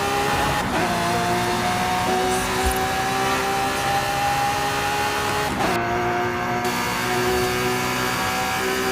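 Forza Horizon 5 race car engine howls along a Mexican highway at high speed, a loud sustained whine that climbs in pitch, breaks off at a gear change and climbs again.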